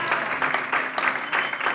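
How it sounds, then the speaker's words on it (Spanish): A congregation applauds during a church worship service, a brief, continuous burst of clapping with a voice rising over it. "Este aplauso es para ti"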